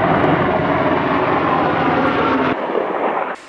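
Cobra military helicopters fly overhead, a loud, steady broadband engine roar that holds for about two and a half seconds, then drops sharply and fades, with no voices.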